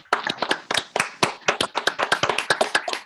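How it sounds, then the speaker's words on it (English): Applause from a small group for council workers at a full council meeting: a few pairs of hands clapping unevenly, close and fairly sparse, with individual sharp claps distinct rather than merging into a wash. "Everybody, let's have a round of applause for our sterling workers."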